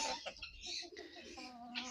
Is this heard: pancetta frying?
no